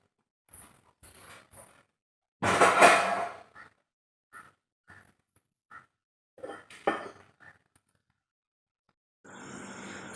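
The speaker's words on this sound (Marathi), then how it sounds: "सगळी रात्री भांडी क्लीन केलेली भांडी सगळी खाली ठेवली" Several sharp clinks and clatters of dishes and utensils being put down, with one louder burst of rattling, followed by a steady background hiss.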